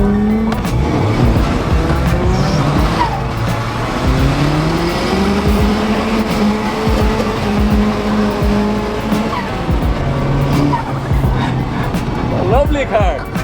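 A Mercedes works car drifting squeals its tires in long, wavering screeches over a loud, revving engine. Voices talk throughout the run.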